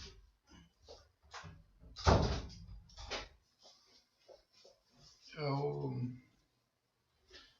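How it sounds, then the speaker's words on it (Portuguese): A door is pulled closed with one firm thud in a quiet room while a lecturer speaks in Portuguese before and after. "Deixa eu só fechar a porta."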